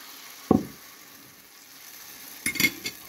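Eggplant slices dipped in egg batter frying in a pan, heard as two short bursts of sizzle and clatter when pieces are laid in, with quieter steady frying between them.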